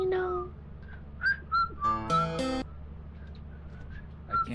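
A person whistles a few short, bright notes in a quiet room, brief tuneful bursts separated by pauses, with a burst of game sound in the middle.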